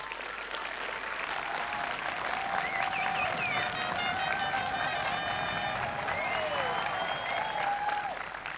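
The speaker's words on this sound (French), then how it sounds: "Donc encore un tonnerre d'applaudissements pour les étudiants." A thunderous round of applause for film students at an image-school graduation ceremony, dense and sustained hand clapping from a large audience with scattered whoops and whistles above it.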